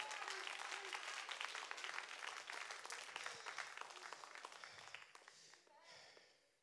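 A church congregation claps during a worship service, a quiet and fairly steady patter of many hands that fades toward the end, with a voice heard faintly over it.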